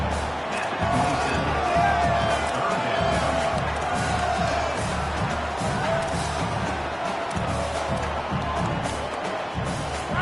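A packed stadium crowd roars at a Georgia Bulldogs college football game on a big third down, a dense, sustained wall of cheering and whooping that stays loud throughout, with a commentator's voice faintly over it.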